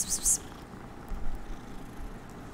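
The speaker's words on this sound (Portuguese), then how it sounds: "Gatinho, gatinho." Cat purring in the video game Hogwarts Legacy, a soft low rumbling purr under game music and quiet background sounds.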